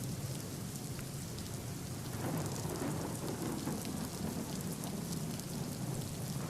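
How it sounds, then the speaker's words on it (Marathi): Continuous heavy rain in Nashik, a dense, steady hiss of downpour striking surfaces, loud and close, with a low rumbling undertone throughout and no voices. "पावसाची संततधार सुरूच आहे"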